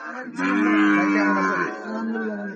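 Bull calves at the Raniganj cattle market give one long, loud, close moo lasting about two seconds, heard alone without talk.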